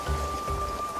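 Steady rain falls in the video game Genshin Impact, a continuous close patter with a faint constant tone running underneath.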